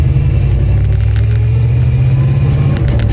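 Loud, steady low rumble of a bagged 1954 Packard's engine while the car turns around, close and continuous with a throbbing mid-range tone.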